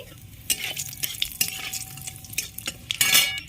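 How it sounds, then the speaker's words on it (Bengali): Nigella seeds crackling in hot oil after fish has been fried, close up, with bursts of sizzle and spoon scrapes and clinks against the pan. "একটু কালো জিরে ফোড়ন দিয়ে দিচ্ছি"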